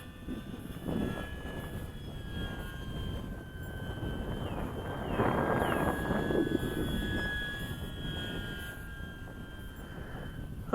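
An FMS 2000 Beaver RC model airplane flies past doing a no-flap touch and go, its steady motor drone swelling midway as it passes close, then easing off at moderate loudness.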